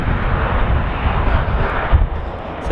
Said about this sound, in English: So Jetstar taking off.